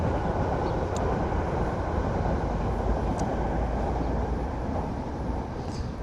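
A steady, broad rumble of a train passing at a distance, continuous and unchanging for the whole stretch.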